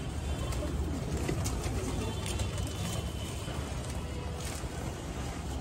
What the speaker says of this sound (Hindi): ये रहा भाई सारा कबूतर भाई का